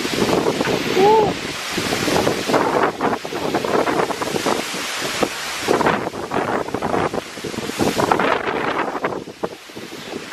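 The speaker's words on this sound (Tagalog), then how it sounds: "Grabe ng hangin." Strong gusting wind buffets the microphone in a continuous rumbling roar, rising and falling over several seconds.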